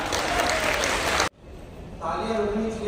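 A crowd at a Modi Care workshop in Silvassa bursts into loud, dense clapping that stops abruptly after about a second, followed by a voice speaking.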